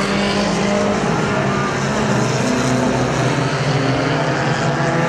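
Mini stock race cars at Perris Auto Speedway roar around the track in a main event, with a loud, continuous blend of engine drones and passing cars, and no pauses between them.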